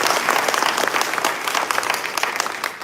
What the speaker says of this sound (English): So give applause to my staff.